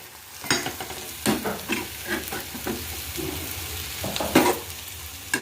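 Gongura leaves frying with onions in a pan give a close, steady sizzle broken by repeated scraping stir strokes, with no voices over it.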